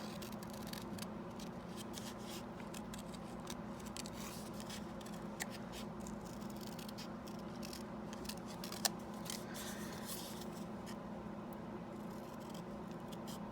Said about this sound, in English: I'm just fussy cutting the last of my leaves here